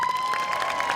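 Audience applause for a student jazz combo band at a university concert, steady dense clapping with some cheering filling the moment, a faint sustained tone running beneath.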